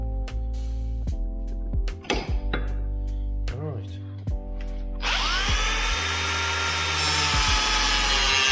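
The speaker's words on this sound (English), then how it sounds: "we have to grind the ball joint down a bit so we can get the socket over" A ball joint on a Ford Transit 4x4 build being ground down, starting with whirring tool bursts and clicks before a loud, steady harsh grinding takes over close by.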